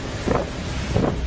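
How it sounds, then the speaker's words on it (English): Heavy storm wind buffets a microphone outdoors amid flying debris and flooding, coming as rough low rumbling gusts with two stronger surges, close and loud, with no voices. "More heavy wind and debris flying around."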